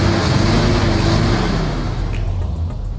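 An old 1970s truck engine revs loudly up close, a rough low roar that swells early and then settles into a lower throaty rumble, with no speech over it.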